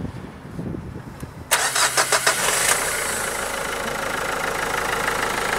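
A 2009 Nissan Note dCi diesel starts up: quiet at first, then a few sharp cranking pulses as the engine catches, settling into a steady, close diesel idle.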